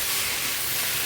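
Rice frying in a pan with fish for fish-head biryani: a steady, dense hiss of sizzling, loud and unbroken for about a second.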